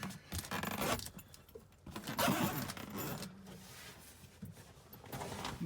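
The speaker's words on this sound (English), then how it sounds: "we can go ahead and zip it up" Zipping shut the fabric cab enclosure of a BMS Stallion 600 UTV, a series of close, quiet zipper rasps and rustling fabric in short bursts, with clicks and handling noises between pulls and no talking.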